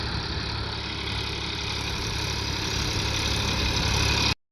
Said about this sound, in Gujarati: ટ્રેક્ટર ફાઇનલી ખેતરમાં આવી ગયું છે અને બાકી જુઓ ગેડવાનું સ્ટાર્ટ કરી દીધું છે